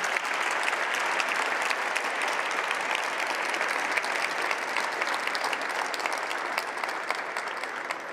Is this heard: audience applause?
yes